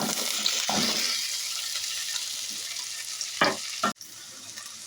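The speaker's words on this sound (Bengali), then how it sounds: "নেক্সট ব্যাচের যে ঢ্যাঁড়সগুলো রয়েছে সেগুলো এবার ভেজে নিচ্ছি" A batch of okra frying in oil for a vegetarian bhindi masala, a constant hissing sizzle that fades slightly over time, with a few stirring clatters and a sharp knock near the end.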